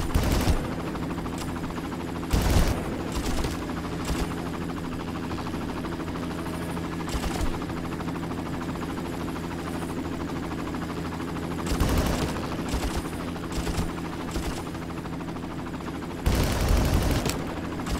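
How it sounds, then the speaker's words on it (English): Bursts of gunfire and a helicopter in the Far Cry video game, with a steady rotor-and-engine drone throughout and loud clusters of shots around the start, middle and end. "Oh, and all those shots went right into the tree."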